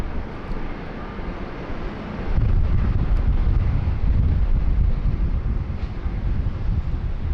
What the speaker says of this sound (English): we will dedicate to you this Thai Airways 777-300ER departure